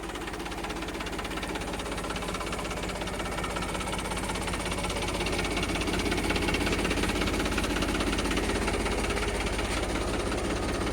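A Mahindra tractor engine runs with its original factory sound and no smoke, a close, continuous rumbling throb with a fast knocking pulse that grows slightly louder partway through.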